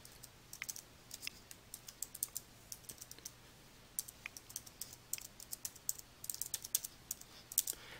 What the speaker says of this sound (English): You can then enter the URL of the web page to open